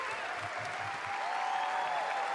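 Steady, dense clapping from a large crowd at a Gamescom 2026 showcase, held at an even level for the whole stretch with no pauses.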